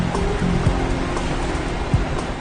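The Neuse River at New Bern, North Carolina, flows with a steady rushing, gurgling wash of water, moderately loud and close, heard briefly on its own.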